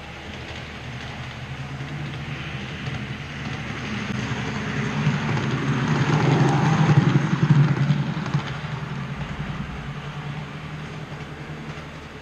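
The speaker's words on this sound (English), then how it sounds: "The approaching train is not scheduled to stop at this station." A non-stopping train rumbles steadily through a station platform, growing louder as it passes close and then fading, with a continuous rolling roar.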